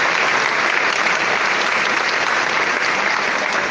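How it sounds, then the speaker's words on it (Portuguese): A church congregation applauding a newly founded parish during a homily, steady dense clapping from a large crowd that holds at full strength throughout with no break. "uma salva de palmas"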